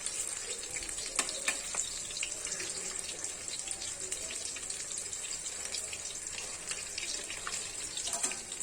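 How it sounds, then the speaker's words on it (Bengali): Chicken manchurian balls fry in hot oil, giving a constant bright hiss with scattered crackles and pops, close and steady throughout, with no voices. "এখন আমি এই রান্নাঘরে চিকেন মাঞ্চুরিয়ান, তার জন্য এখানে চিকেন বল বল করে ভাজছি।"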